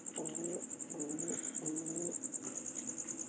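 Pigeons in a straw roost cooing in short repeated phrases, three or four soft calls close by, with a constant high insect-like whine behind them.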